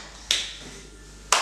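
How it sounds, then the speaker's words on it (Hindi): A single sharp hand clap, close and fairly loud, followed a second later by another crisp clap, with a quiet room between them, during a pediatric stroke therapy session. "ताली बजाओ"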